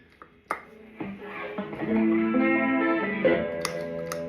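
An electric guitar through a Marshall amp with a gritty, distorted tone plays a sustained chord and a few picked notes, ringing out with a slight effects-laden shimmer.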